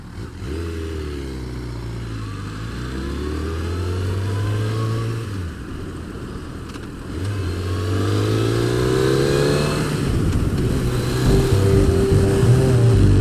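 A newly bought motorcycle's engine running and revving, rising and falling in repeated throttle sweeps, loud and close with a steady idle beneath.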